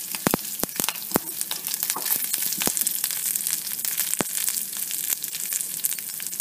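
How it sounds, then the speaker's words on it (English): Curry leaves frying in hot oil while making rawa idly, a steady bright sizzle with sharp pops and crackles scattered throughout, close and continuous. "Add the curry leaves now and fry them for a few more seconds"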